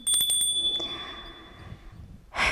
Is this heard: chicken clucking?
no